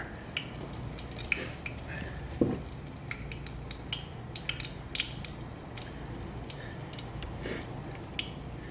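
Homemade corn dogs frying in a deep fryer, a continuous hiss of bubbling oil scattered with sharp crackles and pops, close and steady throughout.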